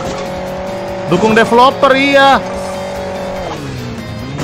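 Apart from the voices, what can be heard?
motorbike engine in video game Hill Climb Racing 2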